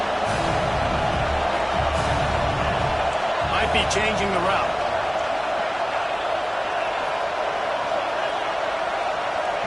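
Stadium crowd roar in an NCAA college football video game, a dense, loud, continuous wash of noise on third down in the red zone, with a voice speaking briefly over it.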